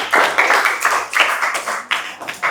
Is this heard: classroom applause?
yes